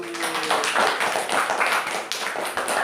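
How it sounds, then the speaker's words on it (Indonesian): Children in a classroom clap their hands together after a read-aloud story, a dense, fairly loud patter of many overlapping claps lasting a few seconds, with no talking. "selesai, tepuk tangan dulu"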